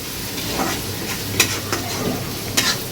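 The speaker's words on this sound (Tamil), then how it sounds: "நண்டுக்கு வெங்காயம் நல்லா வதக்கணும்" Onions sautéing in a pan for crab curry, a steady soft sizzle broken by several scraping stirs of a spoon against the pan, close and moderately loud.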